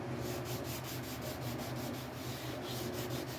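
A burnt orange Telecaster guitar body has its first layer of clear coat sanded, a steady close-up rubbing hiss with a gentle back-and-forth rhythm, continuous and alone.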